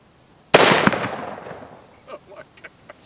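A single loud, close rifle shot from a .260 Dingo cartridge cracks and then rolls off in a decaying echo, followed by people speaking softly.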